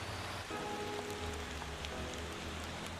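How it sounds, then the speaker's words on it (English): Steady rain falls in the driving and trucking game Motor Town, a continuous even hiss with scattered drop patter and a low rumble beneath, heard alone without talk. "right now that it's raining"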